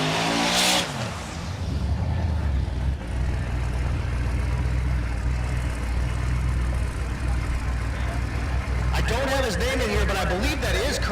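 Curtis Myers' Pontiac G8, running on a repaired roadside fuel pump, makes a drag strip pass at a Kansas race week: a steady loud engine roar through most of the run with a commentator talking over it.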